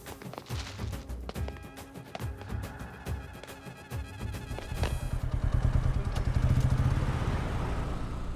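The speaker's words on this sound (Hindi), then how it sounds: "बाइक को किक मार" A motorcycle being kick-started, with several clattering kicks and taps followed by the engine catching and rumbling louder up close.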